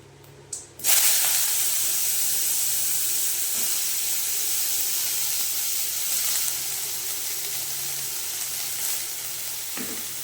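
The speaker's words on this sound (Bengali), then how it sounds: "ধুয়ে রাখা বেগুনগুলো এবার দিয়ে দেবো" Washed eggplant pieces drop into hot oil in a pan with dried red chilies, setting off a loud, steady sizzle and hiss that stays close and continuous without speech.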